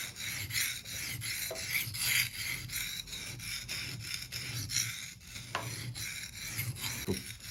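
A knife blade rasps steadily back and forth across a whetstone by hand, continuous scraping strokes close and fairly loud with a rough, gritty texture.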